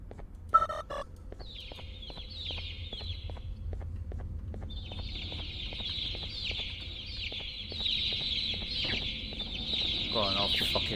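Video game birds cluck and squawk repeatedly against a steady rhythmic tick of game music, with a sharp hit near the start and busier chatter toward the end.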